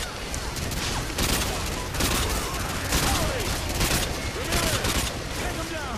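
Sustained automatic gunfire from the video game Modern Warfare 2 rattles continuously at high volume, dense overlapping shots with explosions in the mix, with voices talking under the fire.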